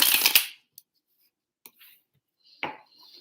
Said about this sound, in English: One more shuffle for my Leos.